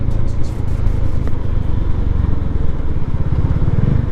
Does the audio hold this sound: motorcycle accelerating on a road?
yes